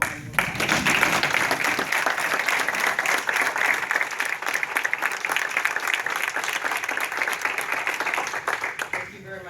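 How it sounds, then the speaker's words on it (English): A room full of attendees at a school board meeting gives a sustained round of applause, dense steady clapping that swells quickly and holds for several seconds before tapering off at the end. "I'd like to give him a round of applause."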